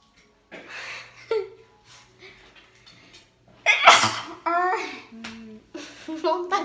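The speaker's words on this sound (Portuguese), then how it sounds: "Vai espirrar." A child sneezes loudly and close, a sharp burst partway through, with a voice talking before and after during a playful makeup session at home.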